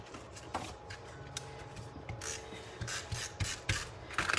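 Paper of a shaker card being trimmed, faint close rasping and scraping strokes with small ticks, quiet and uneven, no talk.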